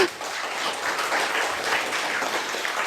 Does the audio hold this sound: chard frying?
no